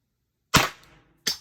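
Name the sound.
Pepperball TCP launcher shot with Freak Lapco barrel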